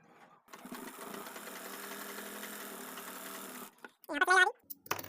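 A sewing machine whirs steadily for about three seconds while stitching a circular handbag, then stops, followed by someone speaking briefly.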